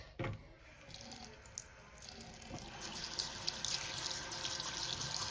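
Water runs from a tap into a sink for washing a dinosaur toy, a steady hissing splash with small drips, starting after a brief clunk and growing slightly fuller.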